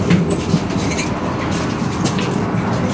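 A Zagreb tram rolls along its rails nearby, a steady loud rumble with faint rhythmic wheel clatter and occasional higher squeals, no speech.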